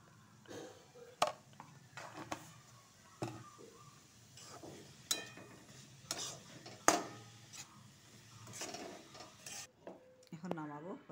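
Soybean pieces are stirred in a pan with ghee, producing soft, irregular scraping and clinking of a spoon against metal with a faint sizzle, quiet and close.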